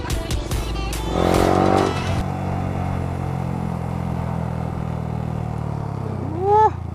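Motorcycles on a group ride from Kolkata toward Ghusighata rumble and rev nearby, a loud engine surge early on easing into a steady low drone, with a short whistling sweep near the end.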